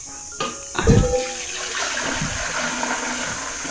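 A full vessel of water is tipped out and splashes down in a rural kitchen, with a brief gush near the start and then a steady rushing, trickling wash that fades gradually.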